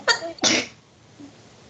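Two quick sneezes, a short one followed by a louder, fuller burst, then near quiet with a faint trailing sound.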